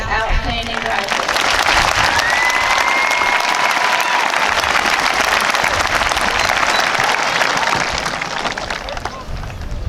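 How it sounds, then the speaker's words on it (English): A crowd at a high school graduation ceremony applauds the graduates with sustained, dense clapping and cheering, including a brief whistle, holding loud and steady throughout. "Please join me in a round of applause for these outstanding graduates."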